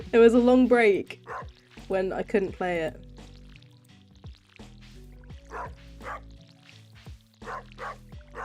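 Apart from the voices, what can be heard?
dog barking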